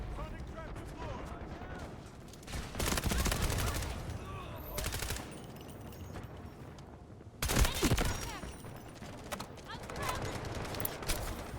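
Gunfire in a medium-range fight in the Delta Force video game, with bursts of rapid automatic shots coming in clustered volleys between quieter gaps, mixed with in-game action sounds.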